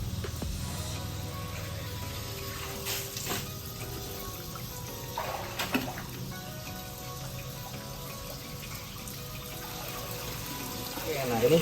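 Water splashes and runs over a dirty koi pond filter net during rinsing, a steady moderate flow with occasional louder gushes, and voices talk over it.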